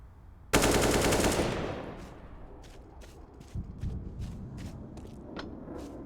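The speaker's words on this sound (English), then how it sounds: "Liaz just got blasted by the P250" A loud burst of automatic gunfire opens and decays, followed by a string of fainter, evenly spaced shots in a Counter-Strike match on Overpass, the P250 pistol among the weapons.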